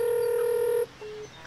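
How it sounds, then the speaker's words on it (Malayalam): Telephone keypad dialing tones in a Malayalam radio drama: one long steady tone followed by a short, quieter second beep, heard clearly with no voices. "ഫോണ് വിളിക്കേ, വിളിക്കേ"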